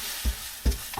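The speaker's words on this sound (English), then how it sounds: "Just going to stir fry it basically." Egg for egg foo young stir-fries in a wok, a steady close sizzle punctuated by two dull thuds of the spatula against the pan.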